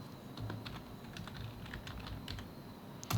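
A computer keyboard is typed on in quick, soft bursts of clicks, faint and close, with no voices.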